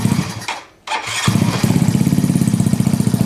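Yamaha Zuma scooter engine cranks, dies briefly, then catches and settles into a steady, loud, close putter.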